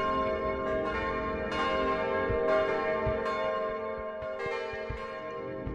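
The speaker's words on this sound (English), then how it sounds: "Bells in the castle sound like wedding bells to me." Castle bells ring in the video game Kingdom: New Lands, layered resonant tolls sounding repeatedly over a sustained, shimmering background drone.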